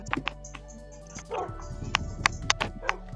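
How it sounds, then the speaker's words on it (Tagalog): Dogs bark and yip in short, irregular bursts, several close sharp barks over a steady low hum. "Yung mga aso namin. Aso ko po."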